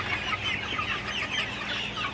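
Sonali super hybrid chickens, 54 days old, cluck steadily on a Faridpur hobby farm, many birds overlapping into a continuous, fairly close chorus with no talk.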